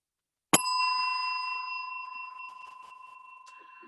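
A single bell struck once to mark the end of a joke rings out clearly, its bright tone sustaining and slowly fading over several seconds, with faint background noises beneath.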